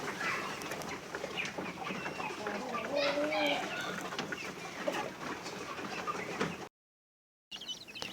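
Improved Kienyeji chickens on a family farm clucking and cooing in a busy flock, near and fairly soft, with a brief dropout near the end.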